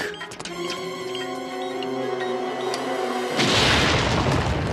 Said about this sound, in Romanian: probabil am folosit prea multă dinamită